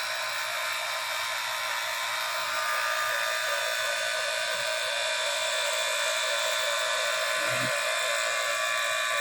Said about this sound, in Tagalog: Yan guys, na-set up na natin yung vacuum pump. Yan. Pa-vacuum na po siya.